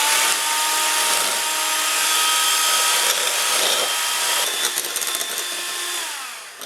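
Electric mixer whipping egg whites to stiff peaks for Greek meatball soup, a loud continuous motor whine that holds steady, then wavers and rattles near the end as the beaters work, close and without talk.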